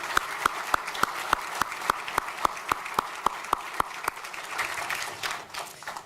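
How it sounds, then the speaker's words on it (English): Applause at an athletics hall of fame banquet, a crowd clapping in a brisk even rhythm with sharp regular claps standing out, fading toward the end. "Let's give them one more round of applause."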